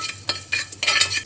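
Mustard, fenugreek and cumin seeds dry-roasting in a pan are stirred with a metal spoon, giving four or five close, scraping rattles in an uneven rhythm, with no voices.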